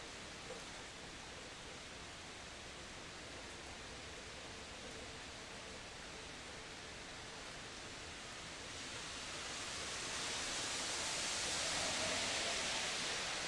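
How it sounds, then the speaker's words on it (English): Steady broadband hiss of rain falling outdoors, continuous and even throughout, growing somewhat louder and brighter near the end, with no talking. "it's raining outside right now"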